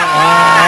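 A chainsaw running in a horror-house scene, a loud, steady high buzzing drone with a constant pitch that holds for under a second.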